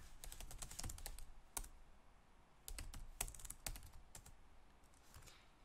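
An address typed on a computer keyboard, quick bursts of crisp key clicks separated by short pauses, close and fairly quiet with no talking.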